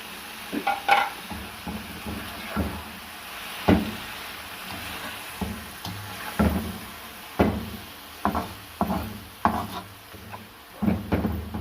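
Chicken fries in a pan with tomato paste and released oil, stirred with a wooden spoon that scrapes and knocks in irregular strokes over a soft sizzle, close up with no speech.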